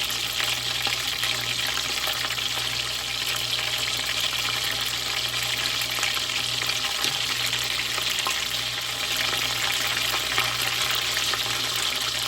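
Lumpiang shanghai spring rolls frying in oil in a pan, a loud, continuous crackling sizzle with a steady hiss throughout and a low hum underneath.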